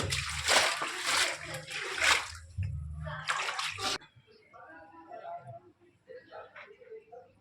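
Loud floodwater splashing and sloshing inside a house for several seconds during rain, then a quieter stretch of softer water movement with faint voices in the background.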